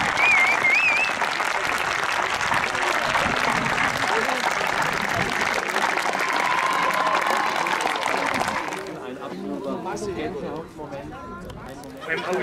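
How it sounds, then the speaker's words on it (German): Large crowd on a meadow at the Wurmlingen Pentecost horse ride applauding loudly and steadily for about nine seconds, then fading to scattered clapping with voices and chatter. "Nochmal ein gigantischer Beifall von allen, die hier auf der Wiese sind"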